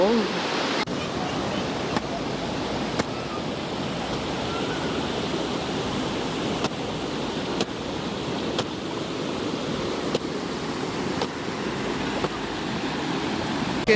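Aagaya Gangai waterfall in the Kolli Hills, a steady broadband roar of falling water that fills the whole clip at constant loudness, with no voices over it.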